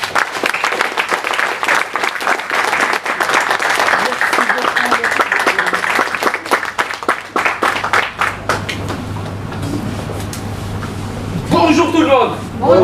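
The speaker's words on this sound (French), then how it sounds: "S'il vous plaît, si vous applaudissez." Seminar audience in Dakar claps to welcome a speaker, loud sustained applause with crisp individual claps that thins out midway, followed by a voice greeting the room.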